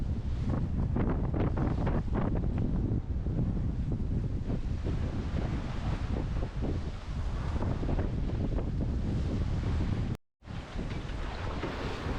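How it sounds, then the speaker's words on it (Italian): Wind of about 15 knots from the southwest buffets the microphone aboard a sailboat at sea on a close reach, with roaring gusts and sloshing waves throughout and a brief dropout near the end. "We had 15 knots of wind from the southwest."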